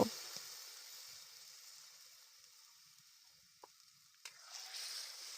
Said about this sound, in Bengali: কড়াইতে তেল দিয়ে তাতে আমি পাঁচফোড়ন দিয়ে দিলাম